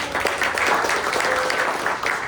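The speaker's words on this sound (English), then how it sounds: "y'all can all give a hand for Dr. Gracie Babineaux" An audience's applause for a speaker at a local talk on coastal environmental issues fills the clip as a steady, moderately loud wash of clapping from a small crowd.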